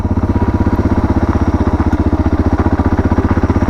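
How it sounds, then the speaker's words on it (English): Suzuki DR650 motorcycle with a modified exhaust and carburettor, ridden in second gear at about 30 km/h, chugs with a steady, loud, evenly pulsing single-cylinder beat close to the microphone. "We're doing 30 kilometers an hour and it's just in second gear,"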